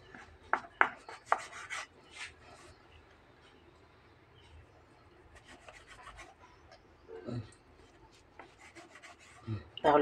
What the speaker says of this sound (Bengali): এখন আমি এভাবে তেরছিভাবে সবগুলোকে কেটে নেব।